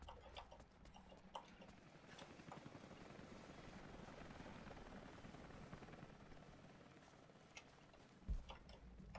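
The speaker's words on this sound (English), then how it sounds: "Random chopper." A helicopter passes in Rise of the Tomb Raider as a steady broadband rotor drone that holds at moderate level through the clip, with light mechanical ticking over it and a brief thump near the end.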